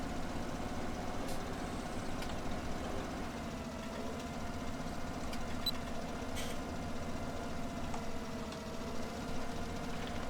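A tractor engine in Farming Simulator 17 runs steadily throughout, a continuous loud mid-low rumble with faint clicks on top and no talk.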